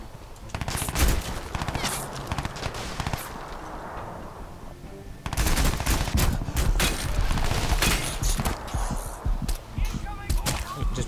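Machine gun fire in Crysis 2 rattles in dense bursts, loud and close, with a brief lull before another sustained stretch of rapid shots and scattered impacts.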